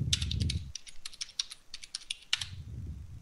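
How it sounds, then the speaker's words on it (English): Bursts of rapid keystrokes on a computer keyboard during a tabletop role-playing session, clicking in quick irregular clusters with low room rumble at the start and end. "Do you want to type that in or should I?"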